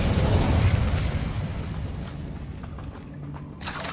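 An Incendio fire spell cast in Hogwarts Legacy, a loud rushing burst of flame and crackling that starts hard and slowly decays over a few seconds, alone without talk.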